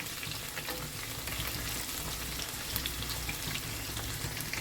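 Sliced onions fry in a pan of hot oil until light brown for a masala daliya gosht dish, giving off a steady, dense sizzle throughout with no talking.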